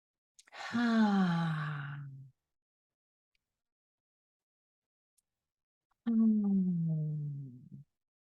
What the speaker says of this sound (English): begin by breathing deeply, inhaling so the belly rises, exhaling, allowing the belly to release.